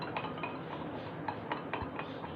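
Salt and cumin being stirred into a homemade drink mixture: a spoon scrapes and clinks steadily against the bowl, with a few sharper taps, close and moderately loud, and no talking.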